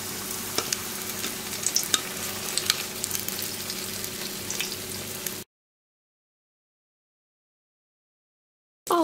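Börek batter frying in a hot oiled pan for a quick breakfast pastry, a steady close crackling sizzle for about five seconds, then a sudden silence before a brief return.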